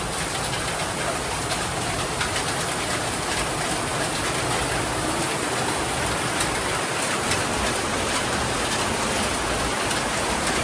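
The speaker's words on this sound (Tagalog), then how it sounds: "So, 2 linggo na tayong inuulan. Walang hinto." Steady heavy rain pours down in Quiapo, Manila, a dense, unbroken hiss that stays at an even level throughout with no voices.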